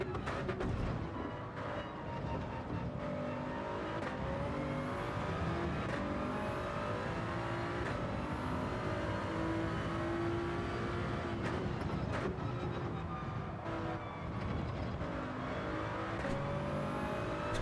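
Toyota Supra race car in a racing video game at the Red Bull Ring holds a steady engine drone, shifting pitch through acceleration and braking with faint tire noise, heard alone at moderate level.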